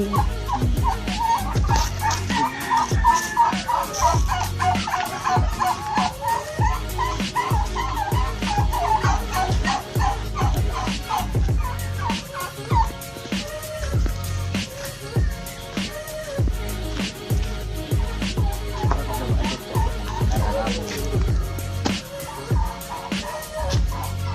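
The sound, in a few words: chickens on a farm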